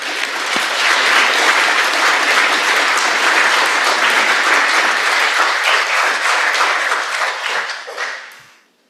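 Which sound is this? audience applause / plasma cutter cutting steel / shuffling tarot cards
audience applause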